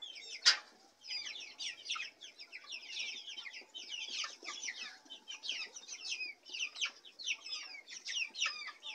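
Several chickens cluck and chatter continuously close by while eating fermented feed, with soft pecking and scratching underneath.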